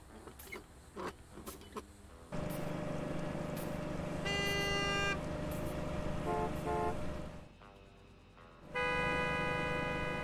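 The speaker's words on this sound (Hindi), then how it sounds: "ये हॉर्न मारा क्या करेगा" Car horn honking in Gas Station Simulator, a few sharp toots at first, then sustained blaring blasts broken by a short pause, loud and close over game ambience.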